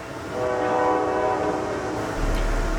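A passing train near a railroad junction sounds a loud, sustained multi-tone horn over the rumble of rolling wheels, with the horn ending as the low rail noise swells.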